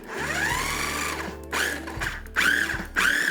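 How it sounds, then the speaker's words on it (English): A food processor pulses chopped vegetables into a paste for the bottom of a spiral vegetable tart's pie crust, running as a close whirring motor with several distinct short pulses, each stopping and restarting. "now we're gonna pulse this up and make a paste that'll be at the bottom of our pie crust"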